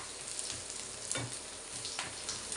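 Steady sizzle of chopped tomatoes frying in oil in a pan, with occasional stirring scrapes, close and continuous.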